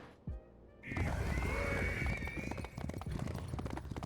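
A horse in a video game lets out one loud, close whinny that rises and trails off, followed by steady rapid hoofbeats as it moves at normal speed.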